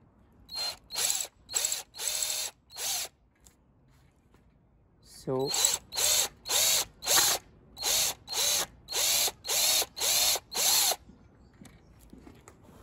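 A power drill whirs in short bursts while drilling into an electric guitar body: four quick runs, a brief pause, then about nine even, rhythmic bursts, loud and close.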